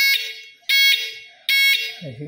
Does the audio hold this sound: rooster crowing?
no